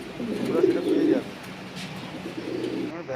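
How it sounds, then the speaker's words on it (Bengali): Fancy pigeons coo in a loft, low murmuring coos swelling in two bursts, fairly close, over a steady background hum. "ভ্যারাইটিস রকমের পায়রা আছে।"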